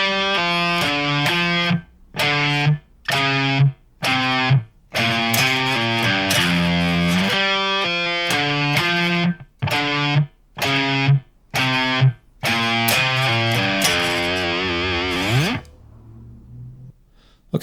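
A distorted electric guitar plays a stoner rock pentatonic bar in loud, choppy stabs broken by short silences, then a longer sustained run that ends in a bending, sliding note. No voices.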